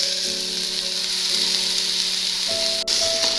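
Biryani rice sizzling and roasting on low flame in a pan for vegetable pulao, a steady close frying hiss with a few stirring scrapes, no talking.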